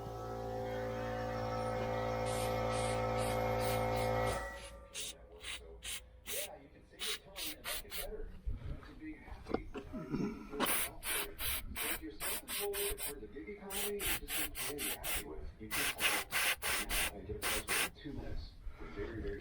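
A long continuous aerosol hiss sprayed into a 1968 Chevelle Nomad body panel gives way to irregular rubbing and bursts of short spray hisses, some quick and rhythmic, heard up close.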